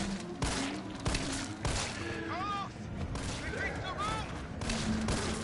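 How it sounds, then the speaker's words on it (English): Repeated pistol shots fired at zombies in a PS4 video game, a string of sharp bursts spaced through the clip, with a voice talking in between. "I can take them out with my fucking pistol."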